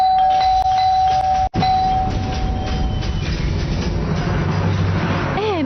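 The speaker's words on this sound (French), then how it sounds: "on sonne à la porte" A doorbell chimes loudly and close by indoors, a clear sustained electronic ring repeated a few times over a steady background rumble, with no one talking.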